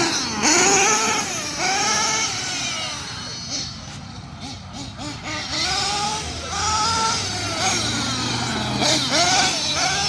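A 1992 Kyosho USA-1 four-wheel-drive RC monster truck runs across an open field, its electric motor whining up and down in repeated rising and falling sweeps, with people chatting nearby.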